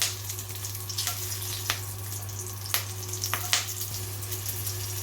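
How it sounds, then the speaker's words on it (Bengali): Green chillies frying in hot oil in a home kitchen, a steady close sizzle with several sharp crackles and pops, no voices. "এবারে আমি দিয়ে দিলাম কয়েকটা কাঁচা লঙ্কা"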